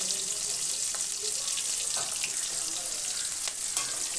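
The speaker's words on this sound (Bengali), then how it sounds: "ওই আলু ভাজার তেলের মধ্যে এবার লম্বা লম্বা করে পেঁয়াজ কেটে রেখেছি, পেঁয়াজগুলো দিয়ে দিলাম।" Sliced onions frying in oil left over from frying potatoes, a dense, loud, continuous sizzle with faint stirring taps and clinks.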